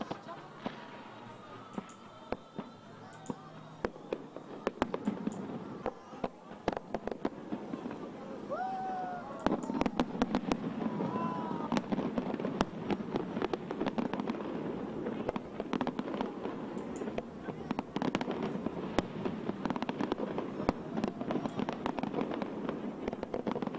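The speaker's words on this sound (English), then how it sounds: "fireworks yesterday exploded to begin the new year." New Year 2022 fireworks burst in a rapid series of sharp bangs and crackles, heard at a distance over a continuous background of crowd noise and faint voices.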